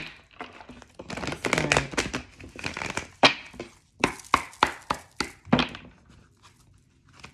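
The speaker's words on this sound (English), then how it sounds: "I'm gonna do one more shuffle." Cards are shuffled with crisp riffling and several sharp snaps and taps in a loose rhythm, close up and fairly loud.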